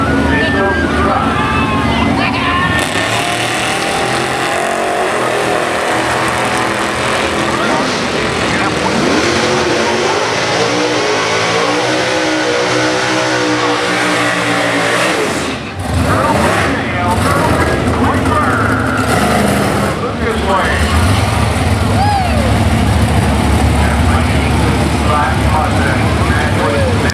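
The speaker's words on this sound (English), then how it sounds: "Diesel truck." Sleeper diesel ice cream truck drag racing, its engine roaring loud and close in a long sustained rev with rising pitch, then cutting off abruptly before another burst of engine and crowd noise.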